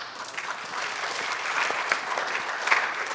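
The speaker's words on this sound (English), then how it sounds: "Let's cheer for that" An audience at an AI conference applauds, a dense, steady clapping from a crowd that holds at an even level throughout with a few sharper claps standing out, no clear cheering voices.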